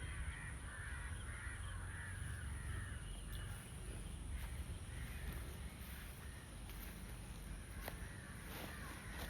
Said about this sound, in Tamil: சுற்றிலும் பறவைகளின் ரீங்காரம்.